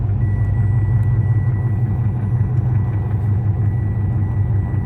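A steady, loud low rumble of a car engine with tire noise on the road, constant and close throughout with no voices.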